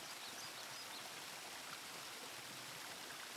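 Flowing water in an animated kids' hide-and-seek cartoon, a steady, even rushing like a stream or small waterfall, moderately quiet, with no voices over it.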